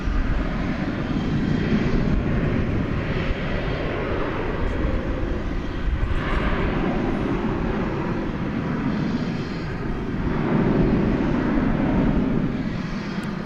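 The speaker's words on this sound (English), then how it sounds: "35 to Denver, an Airbus A321 is lining up to take off now on 18 left" An American Airlines Airbus A321 bound for Denver takes off on runway 18 left at DFW Airport at night, a steady, rumbling jet-engine roar that holds and builds in waves through the clip, alone without voices.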